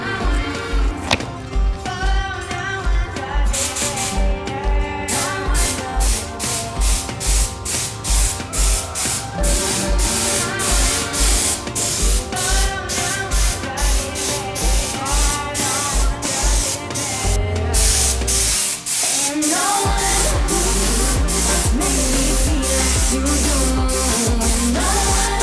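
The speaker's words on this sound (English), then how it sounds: "Use the small spray gun." A small spray gun with a 0.8 needle nozzle sprays primer onto a titanium bike frame, giving steady close hissing bursts in a rapid repeating rhythm that runs almost without a break.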